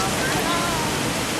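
A mountain stream runs beside a hut in a rural hillside setting, a steady broadband rush of flowing water, loud and close, with no pause across the short stretch.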